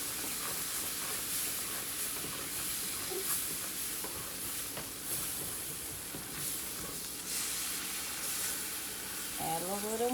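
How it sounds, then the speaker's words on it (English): Smothered oxtails being stirred in a pot on the stove, a steady sizzle and hiss of frying gravy running throughout with a few scraping spoon strokes, close and moderately loud. "Add a little more and stir."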